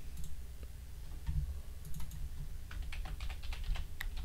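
Keys tapping on a computer keyboard while a custom event is named in Unreal Engine 5, delivered as a quiet, irregular patter of clicks that thickens into a quicker burst toward the end.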